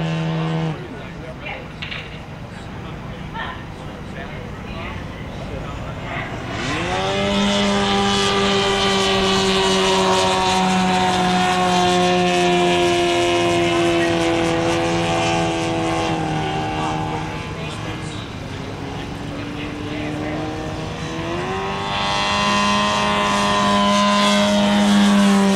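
A 50% scale Christian Eagle model airplane performs aerobatic maneuvers at an air show, its propeller engine droning steadily and rising and falling in pitch as throttle changes through loops, with a commentator talking over it throughout.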